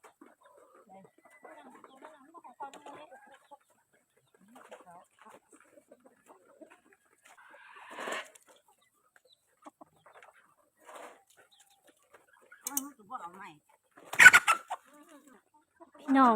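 Chickens cluck at feeding time on a small backyard poultry setup, giving scattered, fairly quiet calls with a few sharper, louder bursts toward the end.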